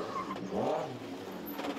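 A historic BMW rally car's engine revs in a brief, mid-distance surge during a rally, rising and falling over steady background noise.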